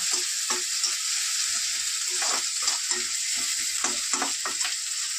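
Tomato and carrot fry in a pan, giving a continuous close sizzle broken by repeated scraping and stirring clatters, with no voices.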